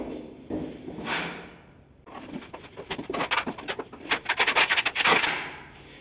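A float trowel scrapes and rubs across a raised high spot on an old floor being prepared for vinyl planks, giving close, rhythmic bursts of gritty scraping that grow faster and denser toward the end.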